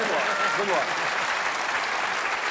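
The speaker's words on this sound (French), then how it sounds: "Ça s'applaudit" Studio audience applause on a French-language comedy show, a dense, steady wash of clapping that fills the whole stretch at even loudness.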